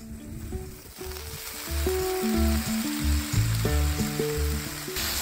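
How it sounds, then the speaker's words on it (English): Two pounds of ground beef browning on an outdoor Blackstone griddle, a steady close sizzle and crackle of frying meat running under a low tonal hum, with no voices. "For this recipe, you'll brown 2 pounds of ground beef."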